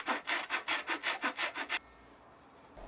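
A handsaw cuts through wooden surround pieces for a Christmas tree stand in about nine quick, even back-and-forth strokes, close and rasping. The sawing stops abruptly and is followed by near silence.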